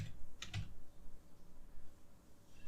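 Fingers type on a computer keyboard, with a short, quiet burst of key clicks near the start followed by soft, faint tapping against low room noise.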